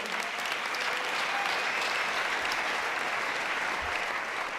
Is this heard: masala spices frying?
no